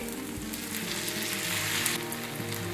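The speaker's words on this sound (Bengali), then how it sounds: "এবার আমি নুডলসটা দিয়ে দিচ্ছি। 1 চামচ সয়া সস দিচ্ছি" Noodles sizzling in a hot pan as a spoonful of soy sauce goes in, a dense continuous frying hiss with a low hum underneath and no talking.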